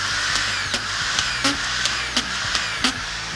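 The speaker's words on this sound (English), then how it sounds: "pull the trigger, leave the tool on, and push the tool forward to advance the screws" A Senco auto-feed screw gun attachment driving screws in quick succession, a steady motor whir broken by about eight sharp, regular clicking bursts, close and alone.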